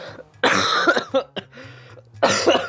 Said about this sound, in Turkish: Harbiden bu sefer gerçekten öksürdüm ama.